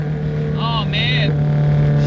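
800HP Subaru STI engine misfiring and breaking up, a droning engine with a strong low hum and uneven stuttering, while a person talks briefly over it.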